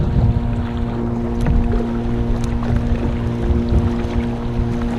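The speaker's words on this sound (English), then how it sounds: "Slow raced by a little skiff over here." A small skiff motors past on open water near a kayak, its engine a steady low drone with wind and light water noise, fairly close and without speech.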